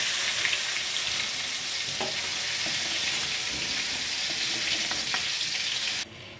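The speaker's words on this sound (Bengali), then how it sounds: "এই মাছ ভাজা তেলেই আমি একটা শুকনো লঙ্কা ফোড়ন দিচ্ছি" Oil left over from frying prawns sizzles loudly and steadily as dried red chilli is dropped in for tempering, with a few faint clicks under the constant hiss.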